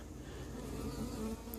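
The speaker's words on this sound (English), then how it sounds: "all the bees from the hive hovering around trying to get in" Dense, steady buzzing of many honey bees close by, hovering around trying to get into a hive, a continuous droning hum with no voices.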